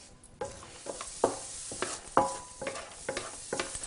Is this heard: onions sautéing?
yes